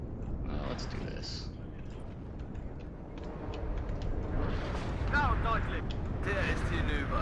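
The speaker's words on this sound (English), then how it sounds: "HE bomb over here." High-explosive bombs detonate in the WARNO war game, heavy rumbling blasts rolling out amid constant battlefield noise. A voice talks over the explosions throughout.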